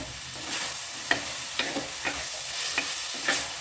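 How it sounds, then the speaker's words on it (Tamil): Ridge gourd sautéed in a pan for a dried anchovy curry, with a steady background sizzle and a series of sharp scraping stirs recurring about every half second, close and fairly loud with no talking. "இப்போ இந்த பீர்க்காங்காயும் சேர்த்து நல்லா வதக்கிடலாம்"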